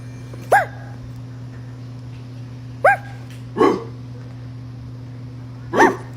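A neighbor's dog barks four times in short, separate bursts spaced a second or two apart, close and clear over a steady low hum, with no talking.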